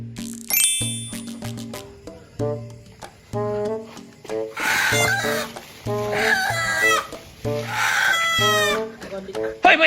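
A rooster crows several times close by, loud harmonic calls repeating in bursts with clucking fowl between, while people talk over and around the crowing.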